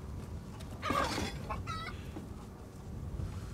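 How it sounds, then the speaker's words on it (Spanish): Chickens cluck in the Resident Evil Village video game, a short burst of loud, close squawking and clucks that fades into low background ambience. "Ah, gallinas."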